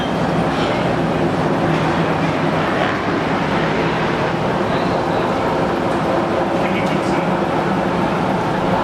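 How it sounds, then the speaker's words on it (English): Yarra Valley Railway train RM22 pulling into Healesville station, a loud, steady rumble of wheels and running gear rolling on continuously throughout, with no voices. "RM22, we're now arriving back at Healesville train station"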